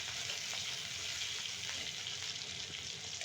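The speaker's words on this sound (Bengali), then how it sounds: "ঝাল পেঁয়াজগুলো আমি একবারে বাদামি কালার আসার আগ পর্যন্ত ভাজবো" Green chili and onion fry in oil in a pan with a soft, steady, close-up sizzle and a faint crackle that runs evenly throughout, with no talking.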